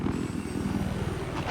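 Helicopter in a 12v12 multiplayer shooter match, its rotor thumping in a fast steady pulse over a constant engine drone, close and even throughout.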